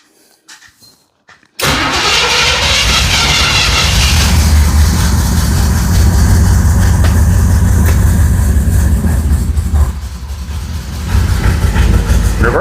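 A 1969 Chevelle engine fires up after a brief quiet start and runs loud and rough, its low rumbling idle wavering and struggling to stay steady throughout.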